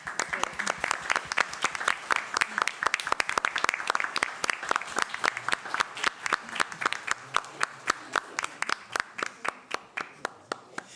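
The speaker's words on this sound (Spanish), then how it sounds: "Bien, un aplauso, se pasaron." Audience in a courtroom-style hall claps after a mock oral trial, a steady run of individual claps that starts fairly dense and thins out toward the end, moderately distant and without talk.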